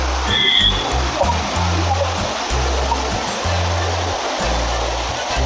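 Water from a lake rushes steadily in a continuous broadband hiss, as a flowing stream near Pondicherry, with gusty low rumbles of wind buffeting the microphone throughout.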